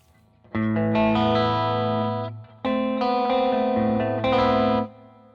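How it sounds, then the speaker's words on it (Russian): Electric guitar runs through the Shimmer reverb effect of a BOSS GT-1000CORE processor, playing two long ringing chord phrases with a bright, octave-shimmering wash that sustains and swells between strums. "Давай послушаем, что сейчас сразу у нас играет в этом Shimmer."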